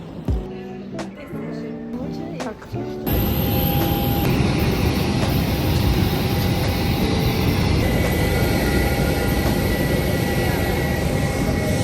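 Airplane at an airport during boarding for a flight to Paris: a loud, steady engine roar rises sharply and then holds, with a faint higher whine running through it and brief sounds before the roar begins.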